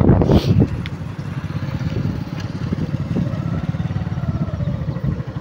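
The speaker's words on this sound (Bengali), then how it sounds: "বাইকটা একটু ভেতরে গিয়ে বাইকটাকে পার্কিং করে নেব" A motorcycle rides into an open field used for parking, its engine a close, loud, steady putter with rapid firing pulses and a clattering burst at the start.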